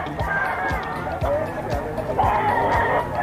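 Gamefowl bull stag rooster of the Gilmore bloodline at a busy pet market, with clucks and brief fowl calls mixed into crowd noise and people talking over them.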